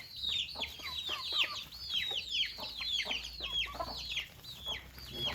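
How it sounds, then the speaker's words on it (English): Backyard homestead hens in a budget chicken coop cluck and chirp in a busy, overlapping chorus, with steady bursts of bird calls at close range and a low ambient hum underneath. "We have the hens here"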